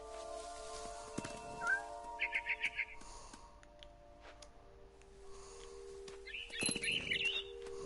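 A bird perches in a tree in What Remains of Edith Finch and gives quiet bursts of quick chirps, once early and again near the end, over a faint ambient game background.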